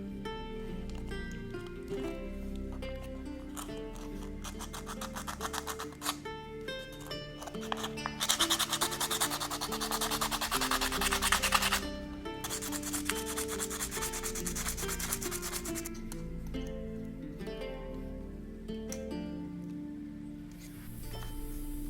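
A cooled metal necklace pendant is sanded by hand, a steady close scratchy rubbing that swells louder in the middle and goes on for most of the stretch.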